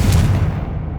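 Confringo spell explosion in the video game Hogwarts Legacy, a single heavy, loud booming blast with deep rumble that fades slightly over a second.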